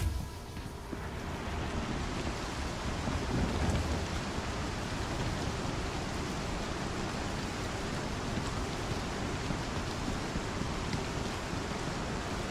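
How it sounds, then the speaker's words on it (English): Rain falling inside an airlock in the space game Star Citizen, a steady dense hiss of downpour with a low rushing undertone, continuous and even throughout with no talking. "It doesn't make sense for it to be raining inside an airlock."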